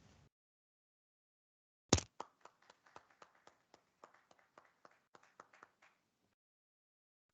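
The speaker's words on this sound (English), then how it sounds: "might have even heard some actual applause from the physical room here" Scattered live applause from a small audience in a physical seminar room for a soil-plant-atmosphere research webinar: a few sharp, separate hand claps at an uneven pace, faint and sparse, dying out after a few seconds.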